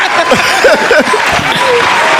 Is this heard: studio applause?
yes